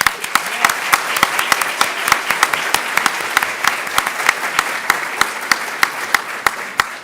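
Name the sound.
audience applause for Congressman Ruiz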